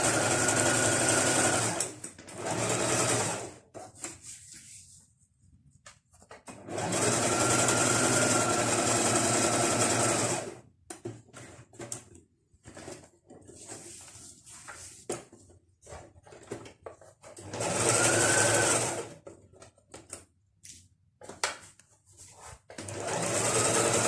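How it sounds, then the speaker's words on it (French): Sewing machine stitching fabric for a heart-shaped cushion, several loud sustained whirring runs of a few seconds each, broken by pauses full of handling noise and short stop-start bursts, close up with no talk. "Alors, on va terminer la couture."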